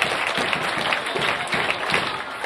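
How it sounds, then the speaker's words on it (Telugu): A crowd of parents and students claps loudly at a Mega Parent Teacher Meeting at a ZP Girls High School, a thick, even wash of applause filling the room without a break. "చప్పట్లు కొట్టాలి గట్టిగా."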